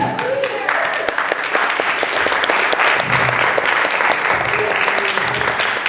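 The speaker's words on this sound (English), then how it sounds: "Let's all clap for that." A crowd at a film screening Q&A in Baltimore claps loudly and steadily, a dense field of many hands with a few sharper individual claps standing out, while some voices murmur faintly underneath.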